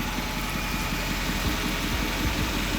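Chevrolet 6500 Duramax diesel truck engine idling up close, a loud, steady low rumble with rapid rhythmic knocking pulses and no voices.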